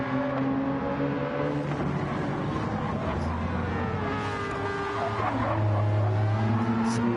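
Race cars in a racing video game roar with sustained engine tones while tires squeal through a drift, the screech rising and falling over the continuous engine noise, with a commentator talking throughout.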